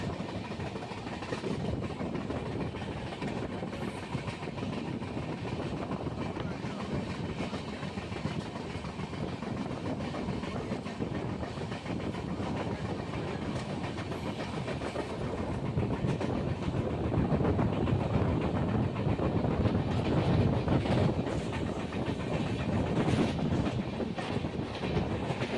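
Kagaznagar Superfast Express with LHB coaches running between Secunderabad and Sirpur Kagaznagar, a loud continuous roar and rumble of wheels on track that swells slightly louder partway through, heard from on board.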